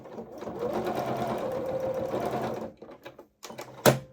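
Stitching coveralls over a knee pad, a sewing machine runs in a fast, continuous whir for a couple of seconds, then stops, with a few scattered clicks and a sharp snap near the end as it reverses at the bottom.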